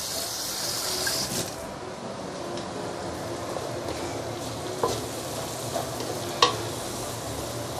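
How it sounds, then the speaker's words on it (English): Lime leaf and Vietnamese coriander stir-fry in a hot pan with lemongrass, a loud continuous sizzle broken by a few sharp utensil clicks and scrapes. "Give it a few stir."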